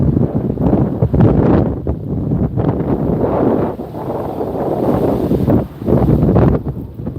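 Strong gusty wind buffets the microphone outdoors at the Las Vegas airport, a loud, continuous low rumble that surges and dips in waves with no one speaking.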